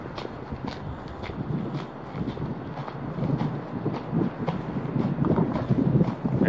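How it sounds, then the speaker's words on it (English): Wind gusts buffet the microphone outdoors, a rough low rumble rising and falling, with faint crunching steps underneath. "It's getting kind of windy,"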